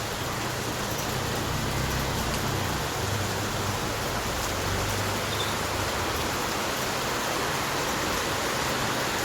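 Heavy unseasonal rain pours down in Mumbai, a dense, steady hiss that fills the whole stretch without any break and with no voices.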